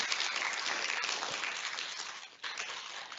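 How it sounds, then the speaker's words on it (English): An audience applauds after a lecture about Prague, a steady wash of clapping that sounds somewhat distant and subdued, holding for a few seconds. "Let's give him one final round of applause."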